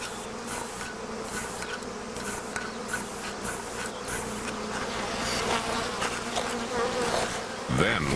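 A swarm of honeybees buzzes steadily and densely around a beekeeper, a close, continuous drone that swells slightly louder toward the end.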